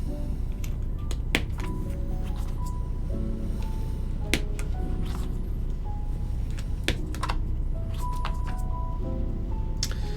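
Rapid typing on a mechanical keyboard with a PPS plastic case, sharp clacky keystrokes in uneven bursts with louder thocks from larger keys, close-miked over a quiet background.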